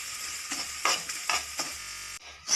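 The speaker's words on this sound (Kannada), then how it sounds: "ಚೆನ್ನಾಗಿ ಗಮ್ಮನ್ನ ತನಕ ಹುರ್ಕೊಬೇಕು." Semolina (rava) is dry-roasted in a pan with fried raisins and stirred, giving soft repeated scraping strokes and a faint sizzle at close range, with no voices.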